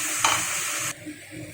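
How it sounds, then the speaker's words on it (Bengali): Ground spice paste with onion, ginger, garlic, tomato and green chilli sizzles loudly in hot oil while being stirred for a Bengali dhokar dalna curry, then the hiss cuts off abruptly to a quieter background with light scraping. "মশলাটা দেওয়ার পরে একটু ভাজা ভাজা করে নিয়েছি, নাড়াচাড়া করে নিয়েছি"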